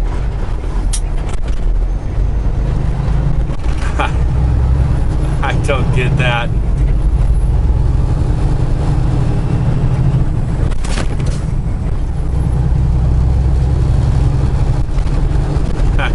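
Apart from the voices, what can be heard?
trucks braking in traffic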